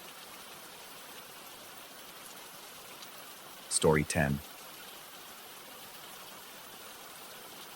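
Steady rain falls throughout, a constant hiss close by, with a short burst of speech partway through.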